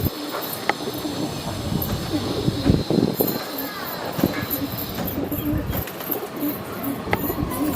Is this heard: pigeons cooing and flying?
yes